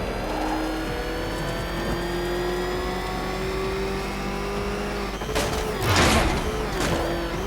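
A car engine in the Batman Arkham Knight video game revs loudly and steadily, its whine climbing in pitch before a surge of louder bursts near the end.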